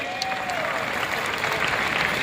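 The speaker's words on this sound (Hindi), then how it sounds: "एक जोरदार ताली सारे लोगों के लिए" A crowd claps continuously at a company event for Tercel Herbs in Raipur, a broad even wash of applause under a faint tonal sweep, with some voices mixed in.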